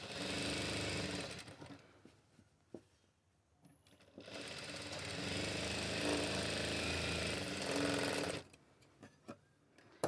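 Electric sewing machine stitching a blouse in a basic tailoring lesson, running in loud continuous bursts of rapid needle chatter with short pauses between seams, close up and without voices.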